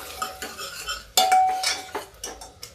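A metal spoon scrapes and clinks against a pan while stirring peas and cluster beans, several sharp strokes, close and irregular, with faint background sizzling.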